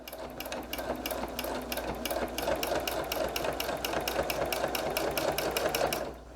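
A sewing machine stitches rapidly while free-motion quilting a stencil motif with a stitch regulator. The needle rattles steadily and closely, then stops just before the end.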